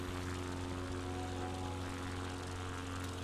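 A propeller plane engine drones steadily in a flight video game, a constant loud hum with a fixed tone and no change in pitch.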